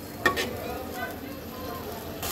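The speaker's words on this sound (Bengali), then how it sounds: "এবার মশলাটাকে আরো কয়েক মিনিট সুন্দর করে কষাবো ঠিক এইভাবে" Masala sautés in a pan with a soft, even sizzle and one quick scrape near the start of the short stretch.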